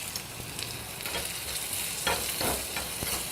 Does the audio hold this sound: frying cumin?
yes